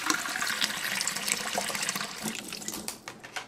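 Water runs and splashes steadily into a rice cooker pot over two cups of rice, close and fairly loud, with no talking.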